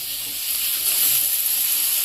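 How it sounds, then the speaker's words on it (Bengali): Chili powder and turmeric frying in hot oil for an egg and broccoli curry, giving a steady, loud sizzling hiss that swells slightly and holds throughout with no talk. "ভালো করে সমস্ত মশলা ফ্রাই করা হচ্ছে।"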